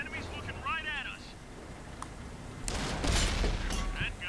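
A tank cannon shot booms in the World of Tanks video game, a loud broad blast near the end that follows quieter engine and battle noise with a brief musical or radio chirp earlier.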